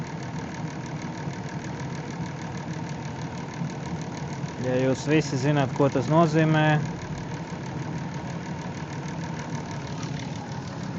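Engine of a Chrysler Town & Country, reassembled after radiator replacement and cylinder head repair, runs at a steady idle throughout, with someone talking over it midway.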